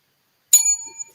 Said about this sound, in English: Now, I just got a plain bell.